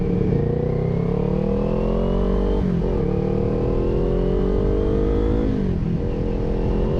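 Kawasaki Ninja 400 motorcycle engine on a road ride, a steady loud mid-pitched drone that rises through the revs, dips briefly at two gear changes, then climbs again, with wind rush throughout and no talking.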